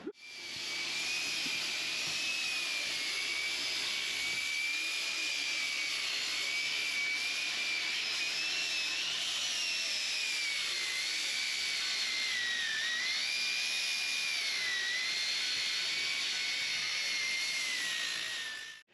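An angle grinder working metal during a roof raise on a Setra highway coach bus conversion, a sustained high whining grind with wavering pitch, close and steady for the whole stretch.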